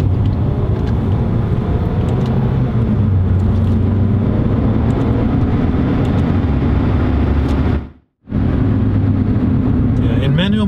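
A Mercedes A250 with a 211-horsepower engine accelerates in manual transmission mode, its loud, steady engine note climbing through the revs, breaking off briefly for a gearshift, then pulling hard again from inside the cabin.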